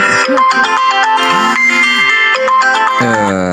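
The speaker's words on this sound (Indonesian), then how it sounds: "Ada telepon" A phone rings for an incoming call, playing a bright, busy electronic ringtone melody with bending synthetic notes that runs loud and continuous throughout.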